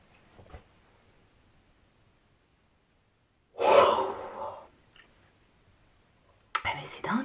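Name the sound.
loud yawn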